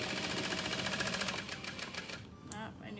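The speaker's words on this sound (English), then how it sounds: "I am back stitching." A sewing machine back stitches satchel panels together, a steady rapid mechanical chatter that runs up close for about a second and a half, then slows and breaks off into quieter, uneven rattling.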